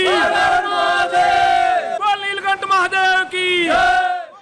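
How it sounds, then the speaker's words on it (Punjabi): Devotees in a temple loudly chanting praises of Lord Shiva, a crowd of voices rising together in sustained, drawn-out shouts that repeat in waves. "ਮੰਦਰ ਸ਼ਿਵ ਭੋਲੇ ਦੇ ਜੈਕਾਰਿਆਂ ਨਾਲ ਗੂੰਜ ਰਹੇ ਨੇ"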